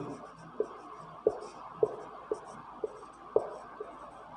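Pen writing numbers of a math solution on paper or board, a series of soft, evenly spaced taps and short strokes under faint room hiss and murmured voice.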